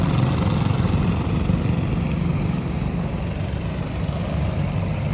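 Race vehicles pulling away at the start of a beach race at Venice, heard as a steady, dense roar of engines with a low rumble, distant and continuous, without speech.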